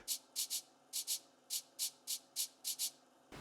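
An Afrobeat percussion loop from FL Studio sounds alone: breathy, scraping hits fall mostly in quick pairs with short gaps, a tight syncopated groove at a constant level.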